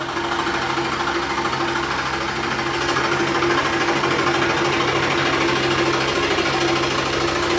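Sewing machine stitching fabric at a steady fast rate, a loud close mechanical whirr and rapid knocking hum that runs continuously throughout with no voices.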